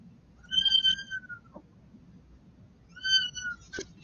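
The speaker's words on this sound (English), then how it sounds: "Whatever kind of microphone your cat has got is amazing because it sounds like he's about" A cat gives two loud, close meows with a pause between them, and each call has a clear harmonic tone. A short thump follows near the end.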